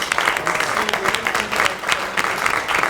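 Audience applause at a panel event on innovation in Africa, a steady dense wash of many hands clapping throughout, fairly close and loud with no clear voices.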